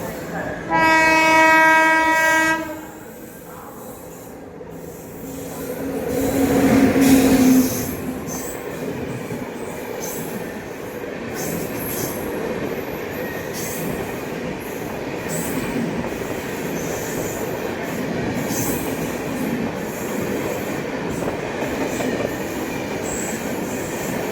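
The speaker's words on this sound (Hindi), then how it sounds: "फर्स्ट राजधानी, पहली राजधानी कैप्चर हो गई है। हावड़ा नई दिल्ली।" The Howrah–New Delhi Rajdhani Express sounds a loud, sustained horn. Its coaches then rush past with heavy rolling rumble and wheel clatter that carries on steadily, close to the track.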